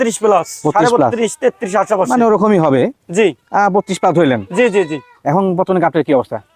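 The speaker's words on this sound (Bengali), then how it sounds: "সুন্দর বড় ছাগল" Large goats, including dairy does with kids, bleat repeatedly at close range in a goat market, their wavering calls overlapping with people talking nearby.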